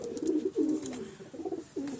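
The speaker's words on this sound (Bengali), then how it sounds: "পায়রাগুলোকে দুদিন পরে একটু বাইরে ছাড়লাম, বিডার পায়রাই, এদেরকে খাবার দেব।" Bird pigeons at a home loft coo repeatedly while eating scattered feed, low rolling calls close by with no talking.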